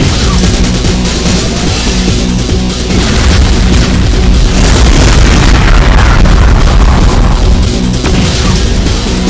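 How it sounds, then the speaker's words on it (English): A spread of BFG 9000 shots fired in a Doom mod video game amid Cyberdemons, producing a loud, unbroken wall of booming explosions and deep rumbling with faint swells of energy. "spread of BFG 9000 shots"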